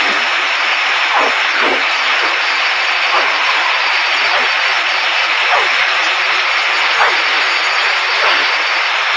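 A fighter jet's afterburners light, heard from the cockpit as a loud, steady, broadband engine roar that fills the whole stretch without a break.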